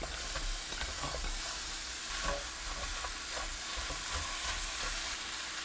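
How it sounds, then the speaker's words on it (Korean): Dried soup anchovies, about fifteen, sizzle in a pot over high heat, a steady dense frying hiss with faint stirring clicks, close and continuous with no talk. "냄비에 손질한 국물용 멸치 15마리 넣고 센 불로 1분 볶아주세요"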